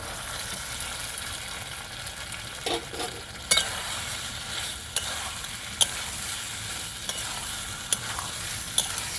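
Potatoes and eggplant fry in an oily spice paste with a constant dense sizzle, and a utensil stirring them produces repeated sharp clinks and scrapes against the pan.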